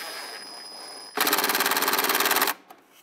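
Rapid, even ratcheting burst from a power tool tightening a band clamp on the intake box of a 2007-2015 Mazda CX-9, loud and close, lasting just over a second, then a single faint click.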